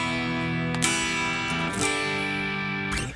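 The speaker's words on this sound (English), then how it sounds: "the guitar layers are a lot more distorted" Heavily distorted electric guitar from a 2018 recording, strumming big open chords in a thick, dense, sustained wall of sound with a few sharp strum accents, loud and continuous with no voices.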